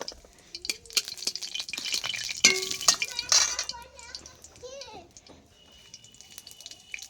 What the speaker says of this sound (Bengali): তেলটা তেতে গেছে, আমি একটা তেজপাতা দিয়ে দিলাম, একটা শুকনো লঙ্কা ছিঁড়ে দিয়েছি